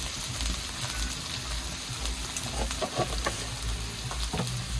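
Spices with turmeric powder fry and sizzle steadily in a pan, stirred with scraping clicks throughout, close and fairly loud with no talking.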